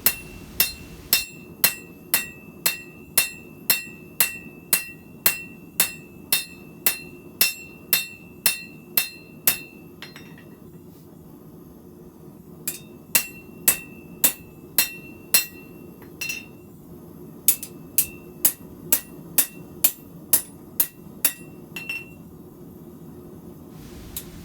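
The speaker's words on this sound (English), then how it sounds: "There is a little bit more flattening going on, just cleaning up of the surfaces and so forth before I start putting the bevel on." Hammering to flatten a knife blade, a long series of sharp, ringing metallic strikes in a steady rhythm, close and loud, with a brief pause midway before the blows resume.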